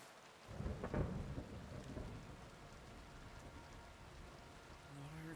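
Thunder rumbles and rolls over steady rain in Kingdom Come: Deliverance II, a low swelling crack near the start easing into continuous quiet downpour.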